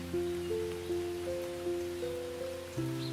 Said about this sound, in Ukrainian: Тут так хмарно, йде дощ